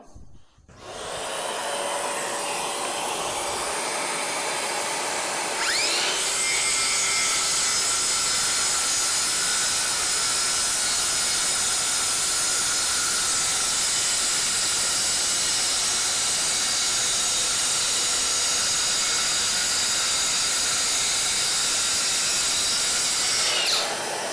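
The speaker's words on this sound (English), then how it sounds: "I'll go ahead, start up the dust extractor, and make the cut" A circular saw cuts laminate flooring while a dust extractor runs, a loud sustained high whine and hiss that starts abruptly and holds steady for about twenty seconds before stopping.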